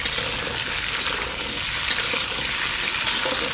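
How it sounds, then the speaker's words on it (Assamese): Pumpkin pieces fry in hot oil with onions and five-spice seeds in a home kitchen, giving a steady, close, loud sizzle with occasional stirring scrapes and no talking. "অকণমান এনেধৰণে ভাজি দিলোঁ"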